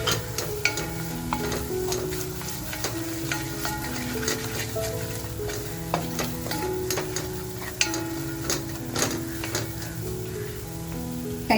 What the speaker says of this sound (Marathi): छान आपल्याला परतवून घ्यायचंय